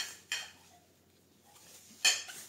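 A glass oil dispenser from SHEIN being handled, with two sharp clinks of glass set down or knocked, spaced well apart, near and fairly quiet against a hushed background.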